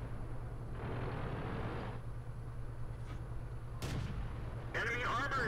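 A tank cannon fires in the World of Tanks video game, one sharp, loud blast near the four-second mark over a steady engine drone, followed by brief game effects.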